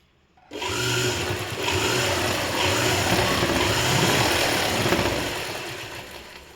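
A sewing machine stitches a government school uniform, starting abruptly and running as a steady, close, continuous whir for several seconds before easing off slightly at the end.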